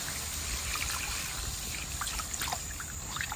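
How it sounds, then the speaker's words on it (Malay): Water poured into a pot of blended spice paste for an asam pedas fish broth, a steady trickling and splashing stream with bright gurgles, close and continuous without talk. "Terus tambah air untuk kuah."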